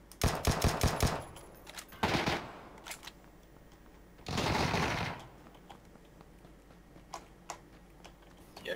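Automatic fire from a QBZ rifle in a video game, with a rapid burst of sharp shots at the start, another short burst, a longer sustained volley midway, and a few isolated cracks afterward, fairly close.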